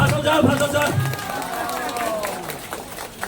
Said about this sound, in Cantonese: 咁拍手掌！